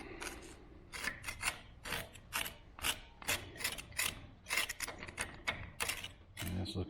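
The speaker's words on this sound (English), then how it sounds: "I'll get this scraped off." Scraping old material off a gear from a Stover 1-1/2 HP-K gas engine, giving a continuous run of close, rapid rasping strokes with an uneven rhythm and no speech.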